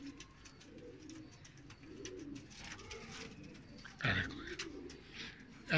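Pigeons cooing from breeding pairs of a good-quality loft stock, soft low repeated coos in a steady rhythm close by, with a person talking over them.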